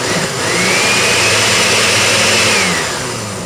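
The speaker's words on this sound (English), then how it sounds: "And then I put water in the blender here." A kitchen blender runs with water inside, a steady loud motor whirr with a rising high whine that holds for about two seconds before easing off.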